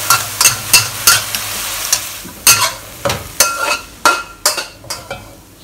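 Minced meat frying in a wok, punctuated by a brisk, regular series of sharp spatula strokes scraping the metal over a crackling sizzle, close and loud, with no voices.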